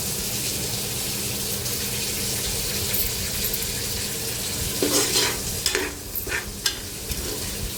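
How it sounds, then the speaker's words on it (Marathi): Vegetables and spices being stirred for veg pulao in a pressure cooker, with a steady sizzle underneath and scraping spoon strokes growing busier toward the end. "आता हे मसाले आपण व्यवस्थित मिक्स करून घेऊया सगळं।"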